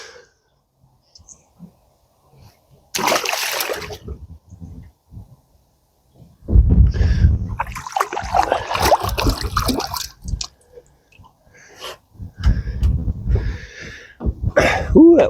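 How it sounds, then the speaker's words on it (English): A hand is rinsed in cold James River water, giving bursts of splashing and swishing, close and fairly loud, in three separate spells with near silence between them. "that water's cold when you rinse your hand"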